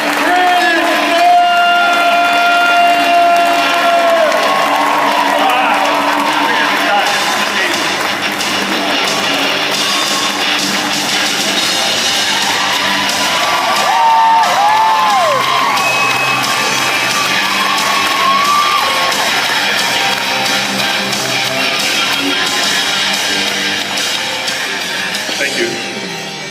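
A large event crowd in a hall cheers, whoops and claps steadily for an introduced executive, a loud dense roar of voices and applause that swells and holds for the whole stretch, with shouts rising above it.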